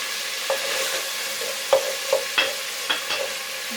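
Onion for beef curry sizzling in a hot pan, a steady close fry broken by several short scrapes and clinks as a spoon stirs it.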